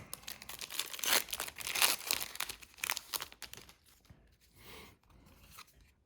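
A stubborn trading card pack from the Midnight Hunt set is tugged and torn open, bursts of loud foil crinkling and tearing through the first half, then quieter scattered rustles.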